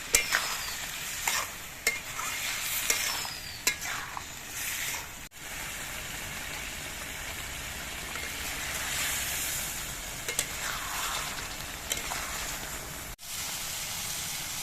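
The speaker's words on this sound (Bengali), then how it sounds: "এবার জালটা বাড়িয়ে দিয়ে জলগুলো সব শুকিয়ে নিতে হবে" Ridge gourd for a prawn dish cooking on high heat in its own released water in a pan, a continuous close sizzle broken by frequent scraping stirs and a couple of sharper knocks.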